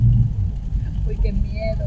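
Low rumbling thunder rolls through a tropical rainstorm, a deep continuous roar that stays loud across the whole stretch with faint higher chirps above it and no voices.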